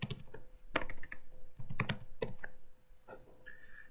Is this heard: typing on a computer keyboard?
yes